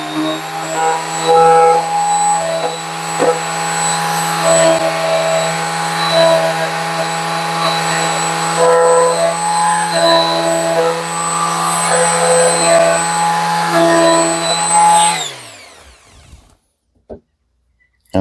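A Parkside PSS 200 C2 200 W electric multi sander working wood into corners, a loud, steady high whine with some scraping variation, running continuously for about fifteen seconds before the motor cuts out and winds down to near silence.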